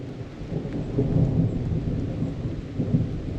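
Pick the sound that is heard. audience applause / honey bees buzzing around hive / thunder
thunder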